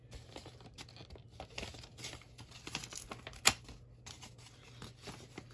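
Paper envelope being ripped open by hand, a run of close crinkling, tearing and rustling with one sharper rip partway through, no talk.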